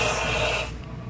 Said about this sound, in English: So I have some 3M cavity wax here, and I'm gonna hose this.